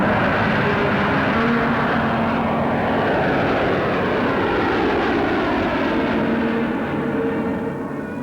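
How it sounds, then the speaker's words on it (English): Loud, continuous drone of a de Havilland aircraft's engines in flight, a steady propeller roar filling the whole stretch with no voices. "It flew extremely smoothly and responded to controls in the best way that our de Havilland aircraft usually did."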